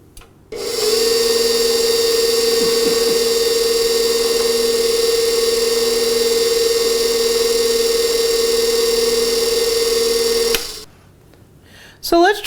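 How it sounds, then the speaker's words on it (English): A KitchenAid Pro 6 stand mixer runs on its stir setting, giving a loud, steady motor whine with a constant pitch that starts abruptly, holds for about ten seconds and then cuts off. "I'm going to turn the Pro 6 on the stir setting."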